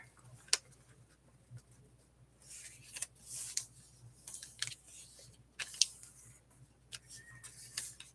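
A paper page is cut down by hand, with sparse, crisp snips and clicks at irregular intervals over a quiet, low hum, close and fairly distinct.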